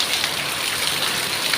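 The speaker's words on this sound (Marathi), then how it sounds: "इतका मस्त असं पाऊस यायला लागलाय बघा" Heavy monsoon rain falls in a thick, constant wash of sound, loud and near, with no speech over the steady hiss of drops.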